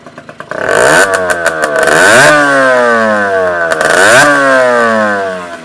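An Aprilia RS50 two-stroke motorcycle engine revs hard close by, with sharp blips rising to a sustained high buzzing scream, easing off and climbing again, loud and alone.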